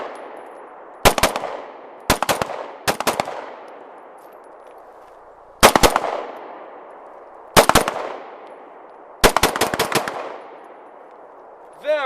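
An Israeli Police issue Jericho 941 pistol fires one-handed in quick clusters of two or three sharp, loud shots, with a final run of about five. Each crack rings out clearly and is followed by a short decaying echo, with pauses between groups.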